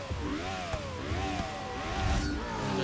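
A racing car engine in Forza Motorsport 6 revving up and down through the gears, its pitch rising and falling repeatedly, fairly loud and steady.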